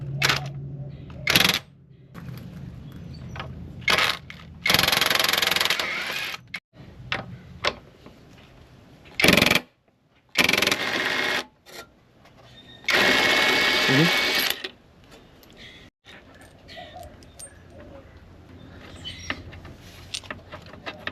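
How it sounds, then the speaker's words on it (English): An impact gun with a 12mm socket removes bolts from a 2025 Honda CB300R motorcycle, giving several short, loud buzzing bursts separated by pauses and softer handling clicks, with occasional nearby voices. "we are going to use a 12mm socket and an impact gun just to remove a few bolts over here"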